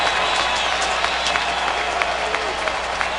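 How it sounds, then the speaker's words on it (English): Stadium crowd at a Texans at Ravens NFL football game, a loud sustained roar of cheering and clapping with scattered sharp claps rising above it, steady throughout. "That's the cheering you hear."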